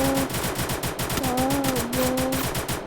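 Rapid automatic gunfire in a shooting video game, a steady loud rattle of closely spaced shots running throughout over faint game tones, with no voices.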